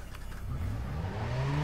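A car engine in the video game Watch Dogs revs up and climbs steadily in pitch, building from a low rumble to a sustained higher drone, fairly loud with no voices over it.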